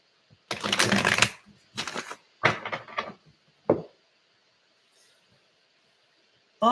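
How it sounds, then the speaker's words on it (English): Tarot cards being shuffled in several quick riffling bursts, close and fairly loud, separated by short pauses, with a soft snap near the end. "I got to get these shuffled."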